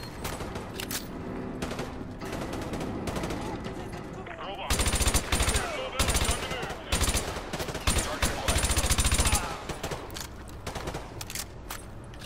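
Rapid automatic gunfire in the video game Modern Warfare 2, loud dense bursts that grow heavier midway, with a player's voice talking over the shooting.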